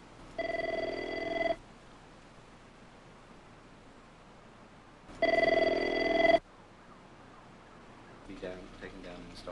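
A telephone bell rings in two long bursts, each lasting over a second with a pause between them, clear and fairly close, and some faint rustling follows.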